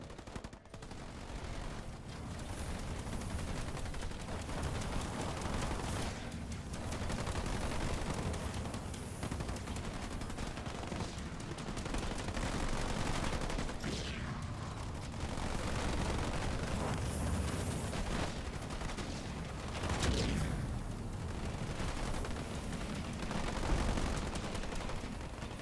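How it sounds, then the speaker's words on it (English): Turrets firing nonstop in the strategy game Halo Wars 2, a dense continuous rattle of gunfire and blasts layered into a loud, unbroken battle din that barely changes over time. "Turrets absolutely spasming out of control"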